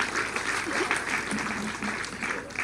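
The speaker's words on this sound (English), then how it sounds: "Please let us give a big thunderous applause to the Vice" Applause for the Vice President at a community gathering in Busoga, a sustained crowd clapping at a steady level, with some voices mixed in beneath.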